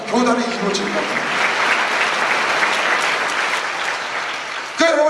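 Church congregation applause, a sustained wash of many hands clapping together for several seconds, fairly loud and even, with a speaking voice briefly audible at the start and again as the clapping fades.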